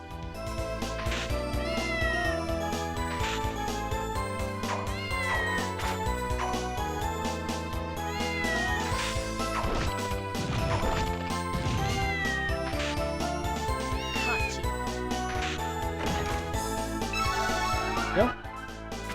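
Repeated cat meows from the video game Castlevania: Order of Ecclesia sound over continuous game music, with a player's voice talking at times.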